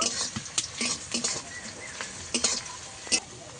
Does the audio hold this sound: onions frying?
yes